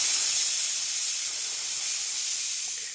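Continuous bright hiss of steam escaping from a pressure cooker on a gas stove set to medium flame, cooking potatoes; a single sustained release that fades slightly toward the end, with no voices.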